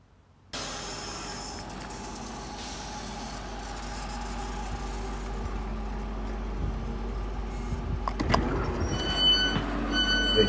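A train running along the railway, a steady low rumble of wheels and carriage noise from inside, with a rising rattle and faint squeal toward the end.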